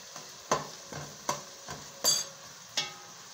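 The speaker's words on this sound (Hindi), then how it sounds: "लहसुन अदरक का पेस्ट हमारा हो चुका है 1 मिनट फ्राई करते हुए।" Garlic ginger paste frying in a pan with a soft sizzle, broken by several spaced scrapes of a spoon stirring against the metal, close up.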